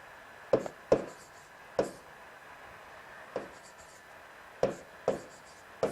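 A teacher writes a maths equation on a board during a Grade 8 lesson, giving short scratchy marker or chalk strokes in irregular bursts, about eight distinct strokes with quiet gaps between them, close and fairly soft.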